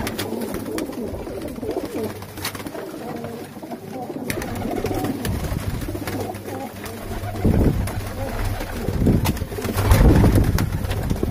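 A flock of around 120 pigeons coos repeatedly in low, throaty bursts, nearby and fairly loud, with the calls overlapping and swelling toward the end against steady background noise.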